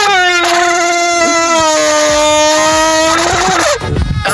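A crushed Predator energy-drink tin blown or pushed to mimic a motorbike, giving a sustained buzzing whine that bends in pitch for about three and a half seconds, then stops with a rough rattle.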